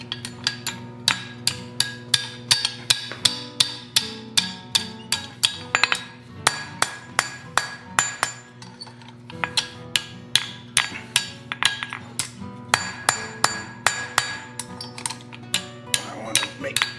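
Repeated ringing hammer blows on hot iron while forging a snake-shaped candle holder, struck in a steady rhythm of metallic clangs with bright overtones, close and loud, pausing briefly before resuming.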